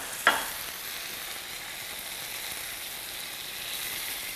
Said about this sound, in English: cook it until the sauce boils and thickens